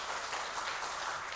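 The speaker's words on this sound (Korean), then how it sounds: "다시 한번 힘차게 박수하십시오" A church congregation gives a brief, dense burst of applause during a Sunday afternoon service reporting on mission work in Rwanda. The clapping is steady, diffuse and moderately quiet, with no talk over it.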